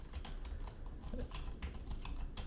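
Rapid typing on a computer keyboard while entering text for an After Effects title, producing dense, close, continuous key clatter with no pauses.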